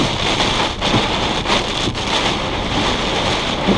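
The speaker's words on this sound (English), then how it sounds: "To be honest, Mark, I can't see anything but rain right now." Heavy rain pours down steadily in a violent windstorm in Independence, Missouri, a dense continuous roar with gusty surges and wind buffeting the microphone throughout.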